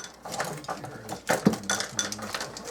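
Spices being stirred around inside a metal bundt pan give close, uneven clinks and scrapes in quick succession, with one brighter knock midway.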